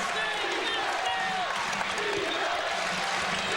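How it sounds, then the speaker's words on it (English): Basketball arena crowd at a college game cheers and applauds loudly in a steady, dense roar, with a commentator talking over it. "the crowd is doing their job. It is loud in here right now."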